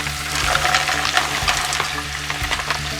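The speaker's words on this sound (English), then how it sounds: "once I chuck in all the green beans, I wait until the green beans are defrosted in the pot" Frozen green beans sizzle and crackle steadily in a hot pot, a dense continuous fry with occasional stirring clatter and a low hum underneath.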